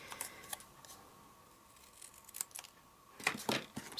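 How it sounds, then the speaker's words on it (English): Scissors snipping a paper tab on a handmade pocket card, a few quiet close crisp cuts clustered near the end after faint handling rustles. "I'm just going to snip off a little bit"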